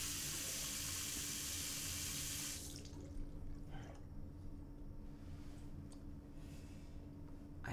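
A bathroom faucet runs in a steady, close hiss of flowing water for under three seconds, then shuts off, leaving faint drips and quiet room tone.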